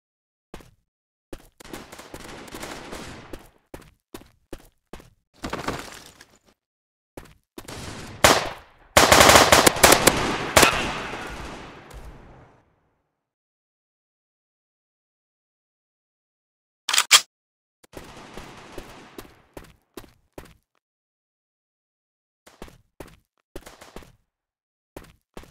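Bursts of automatic fire in an online multiplayer shooter, Gun Game Arms Race: clustered rapid shots, a loud sustained barrage in the middle, then silence before scattered further bursts.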